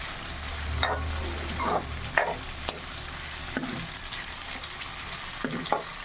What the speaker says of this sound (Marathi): तेलामध्ये फ्राय होतात हे पनीर